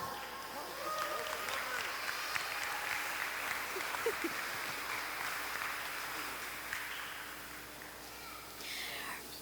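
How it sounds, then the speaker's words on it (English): Students at Rancho Verde applaud the English class during a school news broadcast, a soft, continuous wash of distant clapping with voices talking over it. "Give the English a hand."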